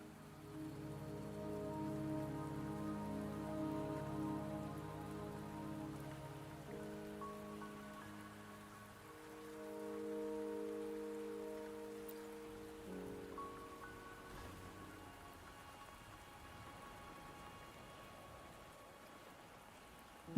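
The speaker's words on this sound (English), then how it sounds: "The rain won't last much longer." Steady rainfall hisses softly through a scene in the video game Wuthering Waves, an even wash of drops under layered, slowly shifting music that fades toward the end.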